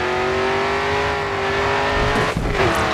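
A race car in Grid 2 revs hard with a steady, loud engine drone, and near the end comes a brief rough burst as the back end slides out into a drift.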